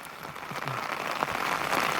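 Rain falling steadily outdoors onto an umbrella, a dense, even patter that stays fairly quiet throughout, with a few sharper drops and no voices.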